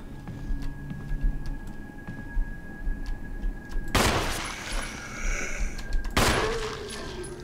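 Two sharp, loud gunshot cracks a couple of seconds apart in the video game Resident Evil Remaster, over a busy background of ticking and faint game noise.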